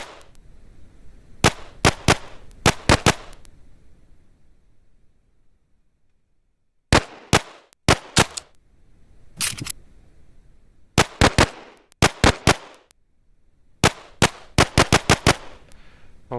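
Gunfire from a first-person shooter zombie game, heard as tight clusters of sharp, loud shots in quick bursts of three or four, separated by short silences, close and alone without talk.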